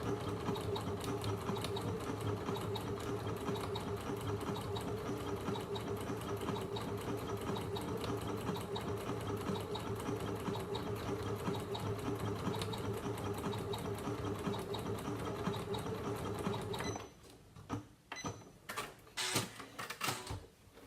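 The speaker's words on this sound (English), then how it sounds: "I can do applique stitches with this machine." A Janome Memorycraft 9900 sewing machine runs an applique stitch in a steady, fast, even mechanical whir for about seventeen seconds, then stops and leaves a few scattered clicks and handling knocks.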